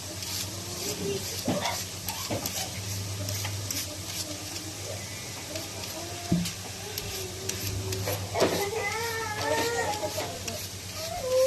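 Oil sizzles steadily in a pan as potatoes fry, with occasional stirring clatter and faint voices talking in the background.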